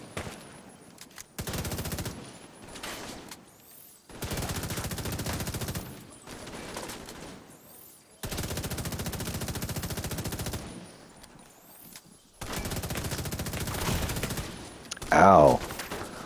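Bursts of automatic gunfire in the video game Rise Up Scout 2, four long loud volleys separated by quieter gaps, ending with a sharp brief sound.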